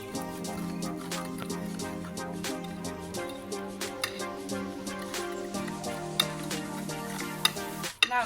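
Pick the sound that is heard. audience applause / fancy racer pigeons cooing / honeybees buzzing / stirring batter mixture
stirring batter mixture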